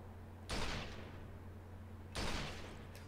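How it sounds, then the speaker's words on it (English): Two shots from the Deadeye, an alien sniper rifle in the Resistance 3 video game, each a sharp loud crack with a fading tail, about 1.7 seconds apart over a faint electrical hum. "This is now the alien version of the sniper rifle."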